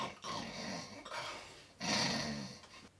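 A sleeping dog on a messy bed growls low and rumbling in close, continuous stretches, with a louder swell near the end and breathy sounds between.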